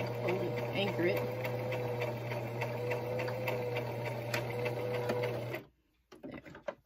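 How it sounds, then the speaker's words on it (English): Close up, a sewing machine runs in a fast, steady rhythm as it works a short backward anchor stitch through fabric, then stops abruptly near the end, leaving a few faint handling sounds. "I have to do a little backward stitch to hold it, anchor it"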